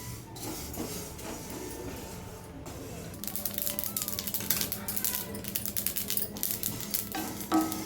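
Mustard seeds dry-roasting in a hot pan crackle and splutter, starting sparse then bursting into rapid, dense popping, close up with no voices.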